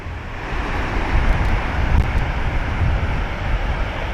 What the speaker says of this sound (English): Crazy surf though.